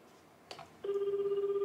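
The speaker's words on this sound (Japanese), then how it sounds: "藤末健三さんの事務所に電話をしてみようかと思います" A telephone call to a politician's office, heard through speakerphone: a brief dial click and beep, then a steady ringback tone that pulses evenly and continues to the end.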